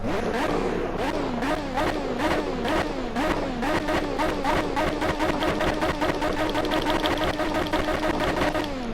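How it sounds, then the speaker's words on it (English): Pagani Zonda R in Project CARS revving at high RPM, a whining engine note that repeatedly climbs and falls through gear changes with rhythmic ticking bursts, loud and close, no speech. "So I think that might be a centrifugal supercharger"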